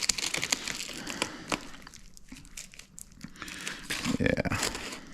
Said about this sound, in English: It looks like we've got flap here with staples, so we can cut it first.